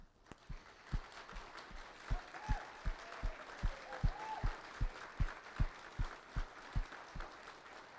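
Sparse, evenly spaced clapping at a Veterans Day breakfast as World War II veterans are honored, a few hands beating in a slow steady rhythm over faint room murmur.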